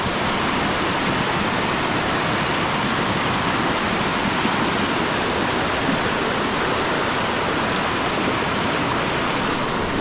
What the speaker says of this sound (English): The water is just raging through here.